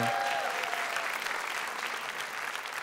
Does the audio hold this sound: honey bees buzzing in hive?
no